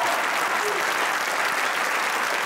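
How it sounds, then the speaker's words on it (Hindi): Continuous, dense applause from a television studio audience on a comedy talk show fills the whole stretch, loud and even with no break. "तालियां बजाइए"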